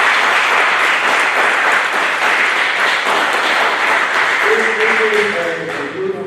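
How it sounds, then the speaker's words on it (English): Loud, sustained applause from a Veterans Day celebration audience fills the whole stretch with dense clapping, and a faint voice surfaces near the end as it begins to thin out. "Let's give yourselves another round of applause."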